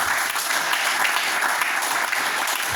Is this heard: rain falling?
no